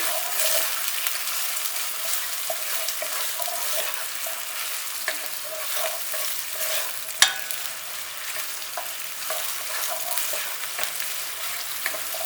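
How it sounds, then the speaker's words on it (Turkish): Steady crackling sizzle of food frying in hot oil, close and continuous, with an occasional stirring clink. "Önce soğanları kavuruyorum."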